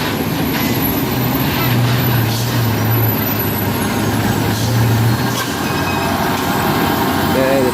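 A truck engine drones and strains steadily while pulling a trailer out of a valley on Bukit Kodok. A low engine hum and rumble persist throughout, with voices talking over it.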